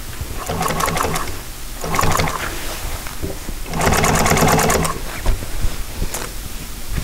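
An upholstery sewing machine stitches fabric for a boxed T cushion in bursts of rapid mechanical chatter, loud and close, with short pauses between runs.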